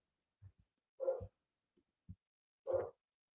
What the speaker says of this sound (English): Dogs, dogs are upset,